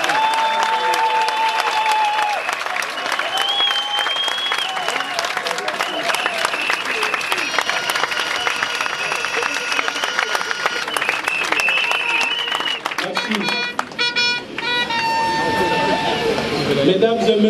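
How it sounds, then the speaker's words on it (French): Ovation and applause from delegates at a party congress: sustained crowd clapping and cheering runs through the whole stretch, with whistles, chanting and music-like tones woven in and loud voices over it. "vous adresser une salve bien nourrie d'ovations et d'applaudissements"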